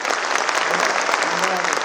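Loud, dense applause from a large poetry-recital audience, continuous and even throughout the short stretch.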